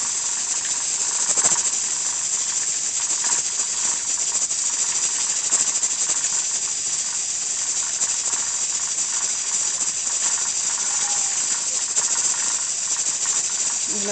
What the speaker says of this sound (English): My steam canner is on.